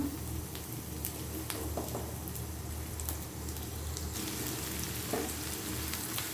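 Chopped garlic and onion frying in mustard oil in a pan, a steady close crackling sizzle with scattered pops and occasional faint stirring throughout.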